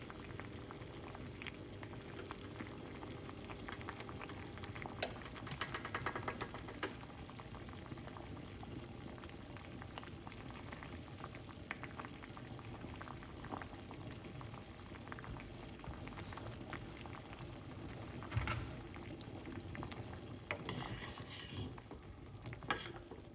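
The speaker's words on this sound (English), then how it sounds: "Just to get it boiled for a bit." A pot of water boils steadily on a cooker for a detox drink, a faint, continuous bubbling with occasional soft clinks and stirring sounds throughout.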